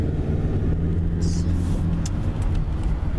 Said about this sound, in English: We're taking the old Toyota Camry for a spin.